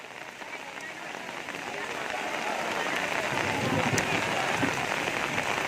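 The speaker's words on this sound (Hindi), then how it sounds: "बरसात भी नहीं रोक पा रही है श्रद्धांजलियों की आस्था।" Steady rain falls across a temple courtyard during a gathering of Shiva devotees, a dense continuous hiss of drops on hard surfaces that gradually grows heavier.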